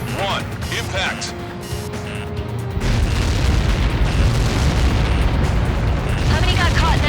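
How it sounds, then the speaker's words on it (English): Massive explosion in the Ace Combat video game: a deep rumbling boom that swells into a sustained roaring blast, with radio chatter and game effects heard beforehand. "How many got caught in that explosion?"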